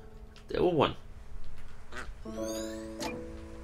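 Ducks quacking in the video game Finding Paradise, a few nasal quacks up close with soft background music tones, faint talk at times.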